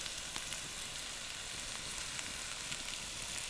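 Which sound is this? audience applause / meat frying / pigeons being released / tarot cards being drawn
meat frying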